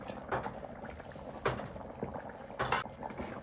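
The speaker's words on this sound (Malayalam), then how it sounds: "ഗ്രേവി നന്നായിട്ട് തിളച്ച് നന്നായിട്ട് കുറുകി വന്നിട്ടുണ്ട്" Sardine and mackerel curry gravy with curry leaves and coconut oil bubbles in a pot, quiet simmering broken by a few louder irregular pops and gurgles, close and alone.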